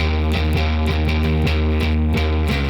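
A heavily distorted bass guitar riff, loud and continuous, with a repeating chugging pattern of notes and no voices.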